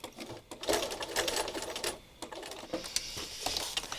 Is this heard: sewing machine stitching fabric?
yes